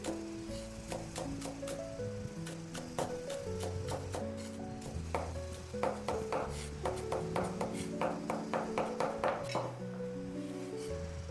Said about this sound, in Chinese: 我們把香蔥切成稍微短一點的蔥花。